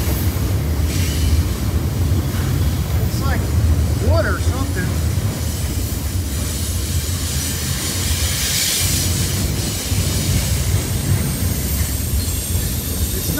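A train rolls across a bridge and gathers speed, a steady close rumble of wheels with brief squeals, while a person talks over it.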